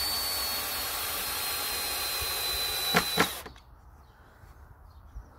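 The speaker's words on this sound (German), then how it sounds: "So, jetzt schrauben wir hier die Latten an das Brett." A power drill drives old screws to fasten wooden slats onto a board for a sparrow nesting box, whining loudly and steadily up close, then giving two short bursts before stopping abruptly.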